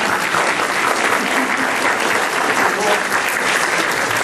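A congress audience at the XXI National Agrarian Congress in Mexico breaks into steady applause, many hands clapping in a thick, continuous wash that holds evenly throughout.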